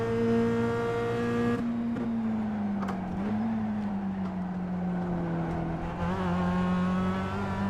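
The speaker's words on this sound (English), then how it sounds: "So I'll let the rev limiter do some work for a while." A race car in the iRacing sim at Oulton Park sits on its rev limiter, giving a loud, steady, buzzing engine drone that stutters slightly as the limiter cuts in, with no talk.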